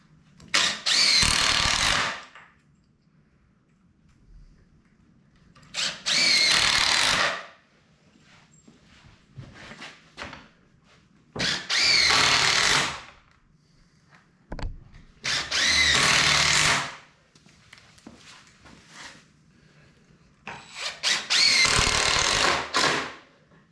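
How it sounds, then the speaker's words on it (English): Power drill driving screws into the frame of a 12 by 12 chicken tractor under construction, in five loud bursts of a couple of seconds each, separated by quieter pauses with faint handling noise. "And then we're gonna drive in screws."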